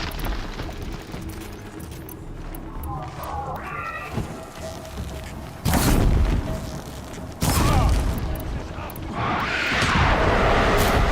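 Explosions from the video game Horizon Zero Dawn boom in two sharp loud bursts amid busy game sounds and a voice.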